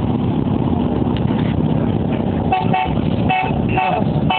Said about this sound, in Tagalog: May busina pa.